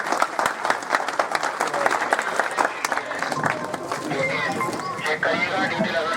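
Loud, sustained applause from a crowd welcoming an official at a police outpost inauguration, dense clapping that continues steadily throughout.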